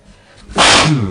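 A single sharp human sneeze bursts out close to the microphone during a sports talk show, rising abruptly from near quiet and trailing off in a short voiced tail.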